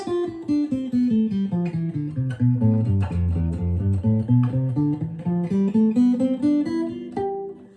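A fingerpicked acoustic guitar melody, single notes ringing out one after another in a steady, unhurried line, close and clear with no voices.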